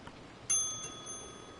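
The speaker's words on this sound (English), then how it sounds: "let's hit the bell" A bell in the video game Kentucky Route Zero is struck once, giving a bright, clear ding whose pure tones ring on and slowly fade over quiet background hiss.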